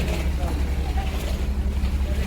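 A fishing boat's engine running as the boat pulls away from a jetty, a loud steady low rumble mixed with wind buffeting the microphone.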